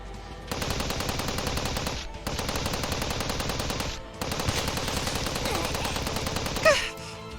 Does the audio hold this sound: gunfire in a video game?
yes